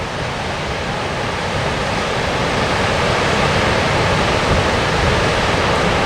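A waterfall in El Dorado National Forest, California, running full, roars as a steady, loud broadband rush of falling water with no pauses.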